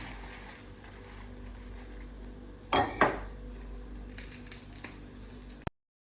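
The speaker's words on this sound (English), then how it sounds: "Once your leaves are dry, that's the kind of sound you want to be hearing" Oven-dried sorghum (waakye) leaves rustle and crackle while being handled, with a few sharp bursts of crisp crunching midway and lighter rustles after, close and fairly loud with no talking.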